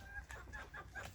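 Hens cluck in a backyard chicken coop at a rural village home, a few short repeated clucks and calls coming close together, fairly faint and close.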